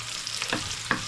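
Garlic and onion fry in hot oil in a pan, a steady crackling hiss broken by a couple of brief stirring scrapes, close and fairly loud, with no talking.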